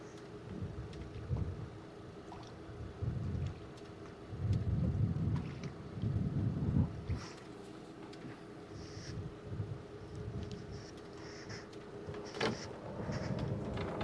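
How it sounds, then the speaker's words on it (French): Boat engines idle on a fishing boat at sea while warming up, a low rumbling drone that swells and dips in uneven pulses, with faint clatter and wind noise on top. "le temps que les moteurs chauffent"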